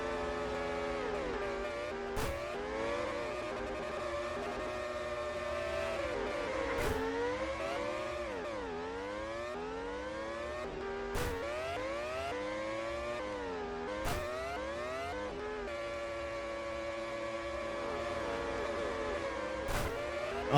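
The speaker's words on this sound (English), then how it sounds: "Now we're in Formula 1 like style cars." Formula 1 style race cars in the video game Ultimate Racing 2D whine with high, droning engine tones that rise and fall through gear shifts. Several cars overlap, and short sharp ticks come at intervals.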